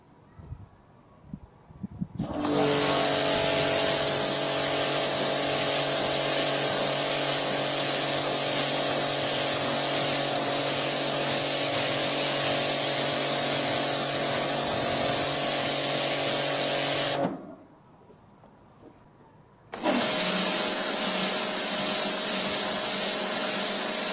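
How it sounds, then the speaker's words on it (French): A Cecotec Hidroboost 3200 Pro induction pressure washer with a turbo nozzle blasts a concrete slab in a loud, steady hissing spray for about fifteen seconds, cuts off briefly, then starts again. "je vais essayer de nettoyer la dalle complète avec la turbobuse"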